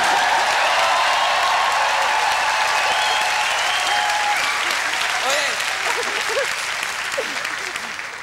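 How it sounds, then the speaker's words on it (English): A crowd cheers and applauds steadily throughout, loud and dense, tapering off slightly at the end, with a brief spoken word near the start. "Could you just do that cheering part again?"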